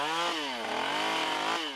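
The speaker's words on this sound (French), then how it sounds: "À grand renfort de scie et de tronçonneuses, les cordistes abattent des arbres et des plantes envahissantes." Chainsaws worked by rope-access crews felling trees and invasive plants on a mountainside, with a loud, close, continuous engine whine that rises and falls in pitch as the saw bites into the wood.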